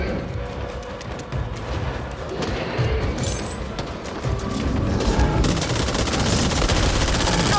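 Gunfire from the zombie shooter Back 4 Blood, played on PS5: dense, sustained bursts of shots under a loud, busy game mix, picking up in intensity toward the end.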